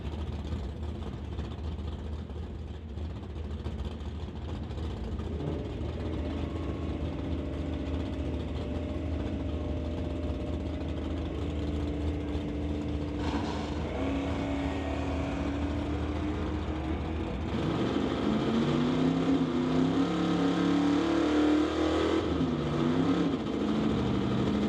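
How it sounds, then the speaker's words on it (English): Chevelle drag car at the start line of an NHRA Summit ET bracket race, its engine idling with a rough lope, then revving harder and louder near the end amid distant track noise. "Martin Jackman will be up first in the Chevelle"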